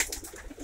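Soft, low pigeon cooing, a short run of throaty rolling coos from a domestic pigeon, close and fairly quiet with no voices over it.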